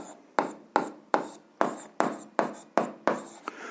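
Chalk or pen strokes writing a point in a math solution, about nine short rhythmic scratching strokes at an even pace, close and clear with no talk.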